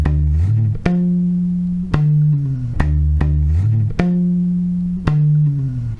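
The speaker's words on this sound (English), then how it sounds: "He remains a little bit on the D and then makes a fast slide for the whole song." Electric bass plays a bass line, a repeating pattern of deep plucked notes with quick downward slides, a sustained note in each bar and a steady, close, loud rhythm, heard alone.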